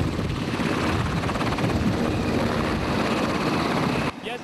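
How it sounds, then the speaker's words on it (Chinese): A US military helicopter arrives at a disaster relief site, its rotor a loud, continuous beating roar with a steady pulse that cuts off abruptly near the end. "还好3个小时后，美军直升机来了。"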